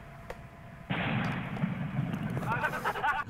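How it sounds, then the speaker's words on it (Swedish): Fireworks bursting outdoors, a sudden loud crackling blast that swells into a sustained, noisy roar with sizzling crackles, heard at some distance while voices chatter excitedly. "Så jävla idioter bara ska skjuta fyrverkerier"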